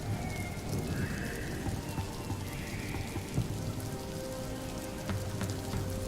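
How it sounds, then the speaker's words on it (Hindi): Rain falls steadily as a dense, even hiss of drops on a surface, moderately loud and constant throughout, in a cartoon scene with no speech over it. "अरे बारिश बढ़ती जा रही है"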